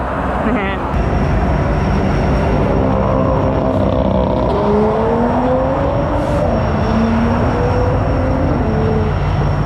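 An Audi S4 B9.5 roars continuously during a rolling anti-lag launch, engine pitch climbing through gear changes in a loud, close drone, with a voice talking underneath.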